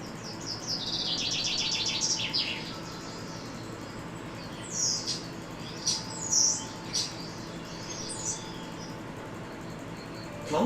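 Birds sing in a spring forest: a rapid run of high chirps at first, then scattered tweets and squawks, fairly close, over a soft constant background hush.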